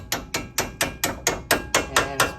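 Steady hammer strikes drive a bolt into the upper control arm of a Ford Ranger, ten sharp metallic blows in an even rhythm, close and loud.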